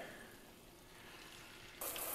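Speckled sea trout frying with garlic in a hot pan, a steady close sizzle that swells louder near the end, with no talking.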